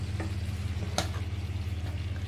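Ginger garlic paste fries in a pan for chicken fry, giving a soft, steady sizzle with a low hum beneath and a couple of brief clinks from stirring.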